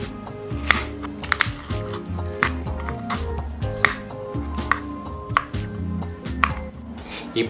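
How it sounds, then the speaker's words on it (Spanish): A mango is peeled and cut, with repeated knife chops on a board and light clinks, steady and close, under faint background music. "Después, pelar el mango."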